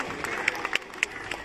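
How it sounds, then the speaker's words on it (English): Audience applause at a school annual sports day prize announcement, a steady wash of many hands clapping at moderate distance, with a few sharper individual claps standing out and some crowd noise mixed in. "Clap! Clap!"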